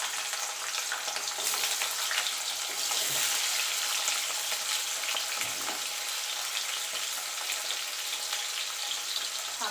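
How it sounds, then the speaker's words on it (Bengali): Potatoes fry in hot oil in a wok, a steady, bright sizzle with crackling spatters that holds evenly throughout, close and alone with no talking. "এবার আমি আলুটা আগে ভেজে তুলে নেব।"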